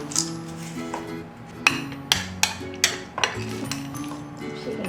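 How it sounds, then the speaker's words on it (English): Chocolate chips are mixed into lactation cookie dough with a mixer attachment, producing a run of rhythmic clunks and clinks over a low steady hum, up close and with no voices. "Mix in the chocolate chips."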